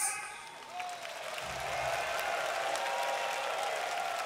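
An indoor esports venue audience at a Monster Strike championship semifinal breaks into applause that swells and holds steady, with cheering mixed into a broad crowd roar.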